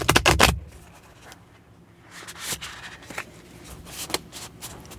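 A new, stiff tarot deck is shuffled by hand with bridge shuffles, giving bursts of fast riffling card flutter followed by softer slides, taps and scrapes of cards being squared up, close by with no talking.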